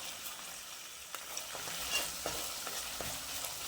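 Green chilies frying in a pan on a home stove, giving a steady soft sizzle broken by light scraping stirs, close and moderately quiet with no voices.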